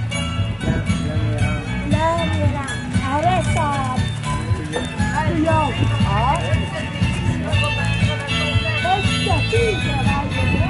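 A horse moving at a trot in a rodeo ranch arena, hoof clip-clops mixed into steady crowd and arena noise, with people talking throughout.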